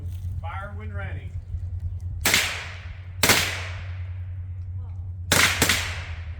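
Three rifle shots ring out at an outdoor shooting range, sharp and loud, the last two in quick succession, with a steady low hum underneath and a brief voice before the first shot.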